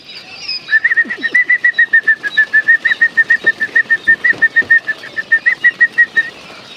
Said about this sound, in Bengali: পাখিগুলোকে কেমন চঞ্চল আমি আপনাদেরকে একটু দেখাই